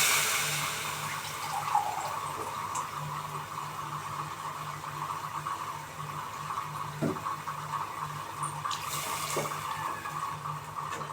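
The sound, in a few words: pouring water into pot for veg biryani rice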